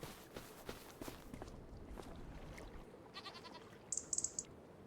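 Goats in the video game Farming Simulator 25: soft footsteps over faint ambience, then a short burst of bleating near the end.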